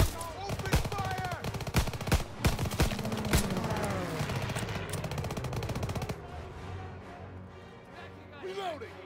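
Heavy gunfire in the World War II shooter Call of Duty: WWII: rapid machine-gun bursts and single loud shots crack through a dense battle din, easing toward the end, with voices under the shooting.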